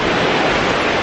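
A Yosemite waterfall roars with rushing water and mist: a loud, steady, close wash of broadband noise with no talking.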